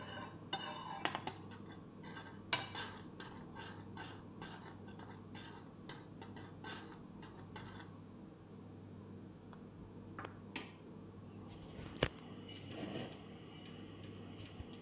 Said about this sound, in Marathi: चांगलं टीस्पूननी व्यवस्थित हलवून घ्यायचं. त्याला मिक्स करून घ्यायचे सगळे मसाले.